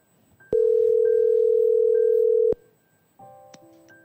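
A telephone line connects a call for a counselling broadcast, with one steady ringing tone held for about two seconds, then a short cluster of faint electronic beeps.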